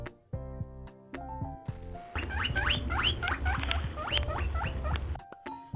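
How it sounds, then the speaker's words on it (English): Rabbit noises in a forest-animal setting: rapid high squeaky chirps and scuffling patter over a low grunting rumble, close and fairly loud, framed by brief tonal sounds at start and end. "Rabbit sounds like."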